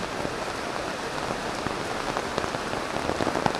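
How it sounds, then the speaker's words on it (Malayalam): Heavy rain pours steadily onto surfaces nearby, a dense, unbroken wash of drops with no pauses. "എന്നെ ഈ മഴയും നനയിച്ചിട്ട്"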